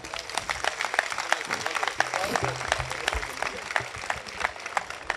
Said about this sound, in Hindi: कविता कैसी लगी एक बार बता दीजिए ताली बजाकर